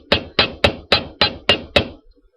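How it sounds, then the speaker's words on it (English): A small hammer strikes a wire ear wire for handmade earrings, seven sharp, evenly spaced metallic taps close up, followed by silence. "I open these up a little bit to do that so that I'm not hammering any other part of the ear wire but that."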